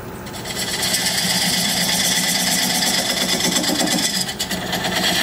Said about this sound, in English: I'm just going to use this diamond point tool to square up the sides of my tenon.